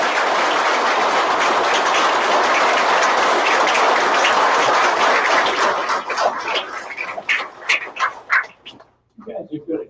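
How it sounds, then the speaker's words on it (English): Audience at an awards brunch gives a loud, sustained round of applause for the award winners, dense clapping that thins into scattered claps and dies out near the end. "Let's give the award winners another round of applause."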